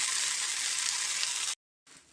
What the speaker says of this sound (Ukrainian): Так, смажимо наші блинчики.